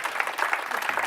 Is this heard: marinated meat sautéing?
no